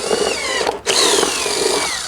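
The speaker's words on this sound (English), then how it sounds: "So now all I gotta do is drill the hole for the connector to fit through" A power drill bores a hole to mount an RGBW automotive rock light, giving a loud, close, continuous whine that cuts out briefly near the middle before spinning up again.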